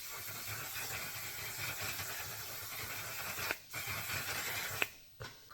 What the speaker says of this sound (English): I will go ahead and set my makeup with some setting spray